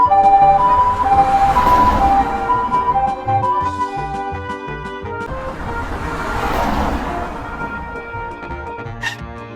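A cartoon ambulance siren wails in loud rising and falling sweeps over cheerful background music, close and continuous.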